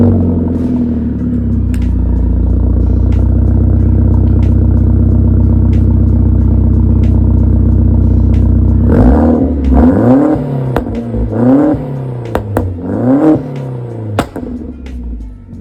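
A remapped Skoda Octavia vRS with a Milltek exhaust runs at a loud, deep, steady idle, then revs hard several times in rising and falling bursts, close and booming.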